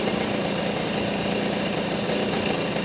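A small engine idles while its carburetor idle screw is adjusted, holding a steady, even mechanical hum close by with constant vibration and no talk.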